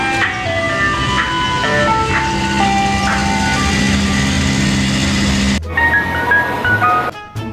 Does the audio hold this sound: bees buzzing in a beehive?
no